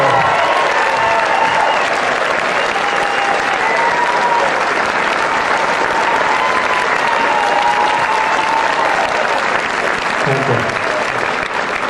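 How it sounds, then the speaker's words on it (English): A steady round of applause fills the room from the audience at an anniversary celebration and Broadway show, continuous dense clapping with faint voices mixed in. "please give a nice round of applause to Beverly Nadler."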